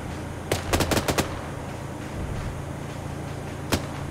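Machine gun fire in the military game Arma 3: a quick cluster of about six sharp shots, then a single distant-sounding report a few seconds later over steady ambient rumble.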